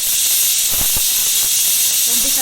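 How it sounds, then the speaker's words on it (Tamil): Pressure cooker on a stove releasing steam in a loud, continuous hiss that fills the clip, while chicken gravy cooks, with a couple of faint low thumps partway through. "ஸ்டீம் வந்தோடனே விசில் போட்டு 2 விசில் சத்தம் வந்தோடனே அடுப்பு ஆஃப் பண்ணிக்கிறேன்"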